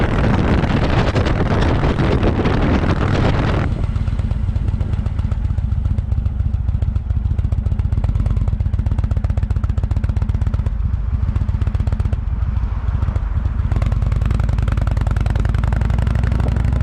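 A motorcycle rides a mountain road over 441 in the Smokies during a rally, its engine a loud, steady drone mixed with heavy wind rush that eases after a few seconds and carries on throughout.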